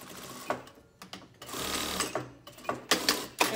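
A sewing machine stitches a pleated fabric face mask in short back-tacking bursts, its motor whirring in several close, loud runs separated by brief pauses.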